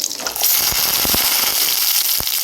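Garlic and shallots sauté in sesame oil for a horse gram chutney, giving a loud, steady sizzle with a few sharp pops and crackles scattered through it and no talking.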